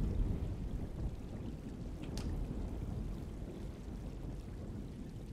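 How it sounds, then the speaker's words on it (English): Steady rain and a thunderstorm in the 2024 PC remake of the video game Alone in the Dark: a continuous low rumble of downpour with a brief crackle of thunder midway, and no voices. "Just keeping an eye out for the storm. Radio says it could be a wild one."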